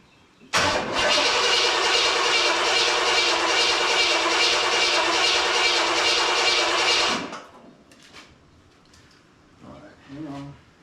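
A 1979 Corvette V8 roars at wide open throttle for camshaft break-in, a loud steady drone holding about seven seconds before cutting off abruptly, followed by quieter shop noises and brief clatter.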